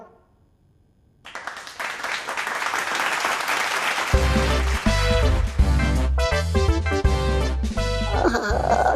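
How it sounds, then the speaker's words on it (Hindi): Applause breaks out after a quiet start on a children's TV fantasy show, then continues under loud rhythmic music that joins partway through, the clapping blending into the music. "तालियों की आवाज है लगती कितनी मधुर"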